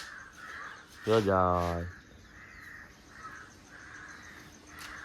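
Crows caw intermittently in the background in the early morning while a person speaks briefly over them.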